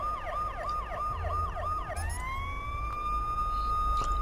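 An ambulance siren in the video game Watch Dogs, a rapid rising-falling yelp cycling for about two seconds and then switching to a steady high wail, loud and clear over low engine rumble.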